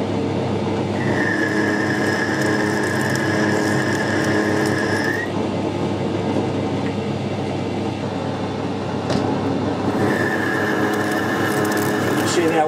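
A lathe screw-cutting a short, very deep thread, cutting mostly on one side of the thread, gives a steady mechanical whir with a sustained tonal whine that fades out midway and returns near the end.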